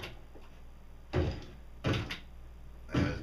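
Minecraft zombies crowd a door at night, producing three heavy thuds spaced about a second apart against a quiet steady hum, each knock loud and close with no talking.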